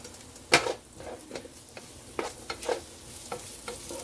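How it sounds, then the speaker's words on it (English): Onion sautéing in bacon grease in a pan for tacos, a close crackling sizzle with scraping stirs and utensil knocks, no voice. "So I'm going to go ahead and saute this onion down here."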